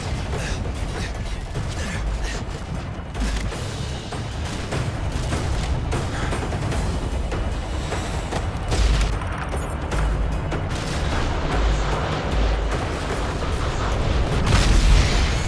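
Explosions from a Predator drone missile strike in Modern Warfare 3 boom and rumble through dense, continuous battle noise, with gunfire and mechanical clatter swelling toward the end.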